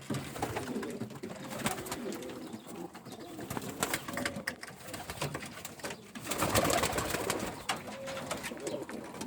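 Pigeons coo steadily, soft throaty calls overlapping one another, with a busy rustling background and no clear speech; breeding-stock Ödemiş pigeons.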